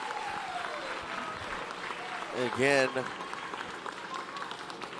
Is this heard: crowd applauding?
yes